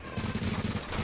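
Rapid gunfire in the video game The Division, a dense, pulsing automatic burst that runs almost the whole second, loud and close, with no talk over it.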